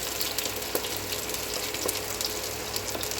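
Ginger and garlic frying in oil for a green chilli pickle, giving a steady, dense, close sizzle with small pops throughout and no voices.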